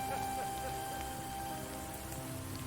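Steady rain falls in the woods, a dense continuous patter on leaves and ground with scattered individual drops, with no clear voices.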